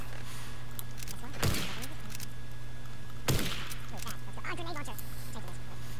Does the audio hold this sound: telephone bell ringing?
no